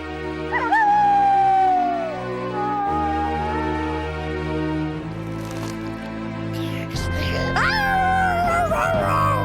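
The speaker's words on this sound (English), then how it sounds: "We see werewolf Chucky run out of his window and howl at the moon" A cartoon werewolf Chucky lets out a long, wavering howl at the moon, rising and falling several times over a musical score, with dramatic swells and bursts of effects near the end.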